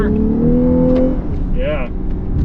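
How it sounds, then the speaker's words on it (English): A 2022 Lexus LC 500h hybrid coupe pulls hard out of a hairpin corner, its engine note rising steadily and loud for a moment, then easing as the car settles, heard close from inside the cabin. "Hit the throttle coming out of the corner."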